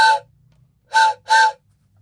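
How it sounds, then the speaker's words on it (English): A Thomas the Tank Engine toy train whistle sounds three short, bright harmonic toots: one alone, then a pause, then two in quick succession, clear and fairly loud with no talking. "It basically sounds like every other whistle train thing that you find."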